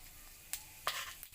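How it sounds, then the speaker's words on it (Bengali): Whole peppercorns, cloves, cardamom and cumin seeds sizzle and fry in hot oil while being stirred, with a couple of sharp scraping strokes over a steady close crackle. "একটু ভালো করে ভেজে নেব।"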